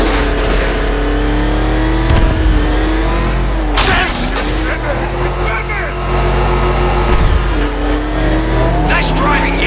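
The Batmobile roars through Batman: Arkham Knight, engine revving loud and close with tire squeals and crashes, as voices shout over the driving.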